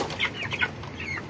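Several young broiler chickens, kept in a group of ten and being weighed at about 21 days old, cluck and chirp in short overlapping calls close by.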